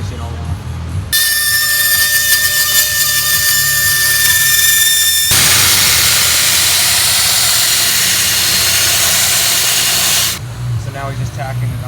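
Tack welding on a custom titanium exhaust pipe for a Ducati Panigale motorcycle, a loud steady hiss and buzz that runs for several seconds and changes tone partway through before stopping.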